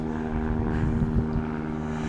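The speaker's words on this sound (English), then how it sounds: "Little airplanes flying overhead." Small propeller airplanes pass overhead above a river in Anchorage, a steady droning engine hum filling the short stretch without any talk.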